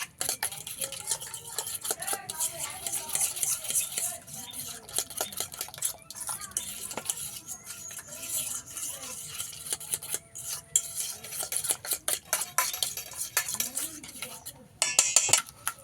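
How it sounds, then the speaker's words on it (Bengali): Spice paste being mixed with a little white oil for hilsa fish pulao, a metal spoon scraping and clinking steadily against a pot in busy, close, continuous strokes with brief pauses. "এবারে সব কিছু একসঙ্গে ভালো করে আমি মিশিয়ে নেব।"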